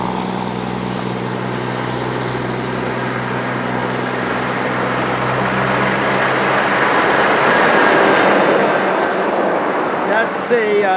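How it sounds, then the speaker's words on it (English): A dairy truck passes by on a village street, its broad engine and road roar building steadily to a loud peak and then falling away, with some faint higher tones over the top. "That's a dairy truck, I believe."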